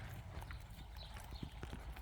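A horse trotting during a riding lesson, hooves clip-clopping in a brisk, even rhythm at moderate distance, with quiet background noise and no talk.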